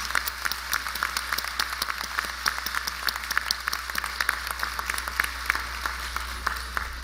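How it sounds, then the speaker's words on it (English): A crowd applauds the teachers at the Southland College Prep Class of 2018 graduation ceremony, with sustained, even clapping heard from a distance over a low steady hum. "So let's give them a round of applause."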